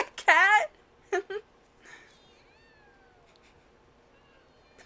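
Anime character voice mimicking a cat with a drawn-out meow followed by shorter mewing cries, near and clear, with quieter speech and tones in between.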